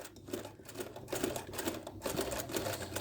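A sewing machine runs a short stitch length across the end of a coat zipper, its motor whirring in a steady, close mechanical hum with a faint rhythmic pulse and no voices.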